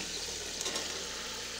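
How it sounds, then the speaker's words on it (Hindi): Tinda (round gourd) frying in oil in a pot already used for frying chicken, an even, dense sizzle holding steady and close for a brief moment. "अब चिकन के बाद टिंडियों को भी हम फ्राई करेंगे"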